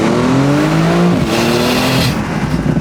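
A 2017 Porsche 911 Cabriolet 4S accelerates hard, its loud engine note climbing steadily through the gears with a quick drop at each shift, heard close and alone with no talking.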